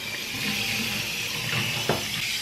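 Steady rush of water pouring from a tap while bathing a Shih Tzu, continuous and close, with a faint splash near the end.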